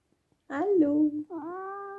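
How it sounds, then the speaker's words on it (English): A pet cat gives two clear, close meows, a long drawn-out one followed by a shorter rising one after a brief pause, with no other sound around them. "men that love cats"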